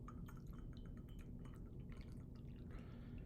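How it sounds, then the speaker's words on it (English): Tea poured into a cup, a soft trickle and drips of liquid against the cup, faint and close over a steady low background hum. "I'm going to pour myself a cup of tea"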